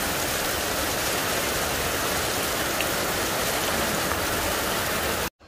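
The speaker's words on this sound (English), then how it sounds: "So, it's heavy raining now." Heavy rain during Typhoon Paeng in the Philippines, a loud, unbroken hiss of pouring water that cuts off abruptly at the end, with no voices.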